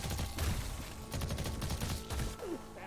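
A submachine gun fires in the video game Guntouchables, with rapid bursts of muffled shots at fairly low volume, close by and mixed with other game sounds.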